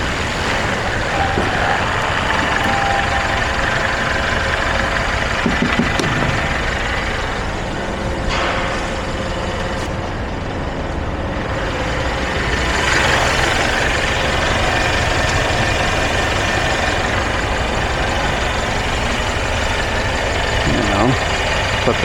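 A Mercedes Sprinter van's diesel engine idles steadily and close by for the whole stretch, a constant low rumble with a person speaking over it.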